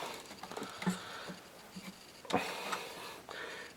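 6.5 Creedmoor reloading press worked to seat a bullet, giving soft mechanical clicks and scrapes, with a firmer clunk of the press stroke partway through.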